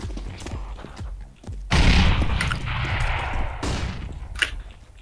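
Gunfire in the video game Counter-Strike: Global Offensive, a loud burst of shots erupting and sustained for about two seconds, then another volley, with game noise and a little talk around it.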